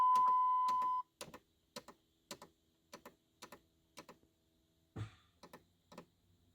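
A 2005 Cummins diesel grid heater at work in a parts truck: a steady electronic tone for about a second, then a run of sharp, evenly spaced clicks, roughly ten of them, fairly close.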